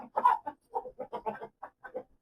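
Rooster or cockerel of the Qandhari Hera breed, with a chick nearby, giving a quick run of about ten short, clipped clucks in steady rhythm, close and clear with no talking.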